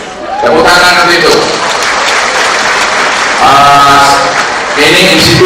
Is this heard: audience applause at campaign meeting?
yes